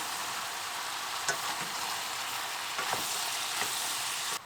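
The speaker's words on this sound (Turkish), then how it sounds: "Şöyle iyice bir karıştırıyorum." Steady sizzling from a hot pot as chickpeas and tomatoes are stirred, with a few soft scraping strokes of a utensil against the pan.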